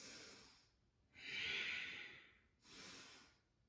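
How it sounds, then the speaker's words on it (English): Deep Ujjayi breathing during a yoga flow: a faint close inhale followed by a long, slow, throaty exhale and the start of another breath, with no talking. "Deep Ujjayi breaths."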